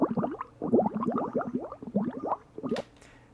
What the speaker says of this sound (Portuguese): eu vou deixar solo aqui, para você ouvir só essas borbulhas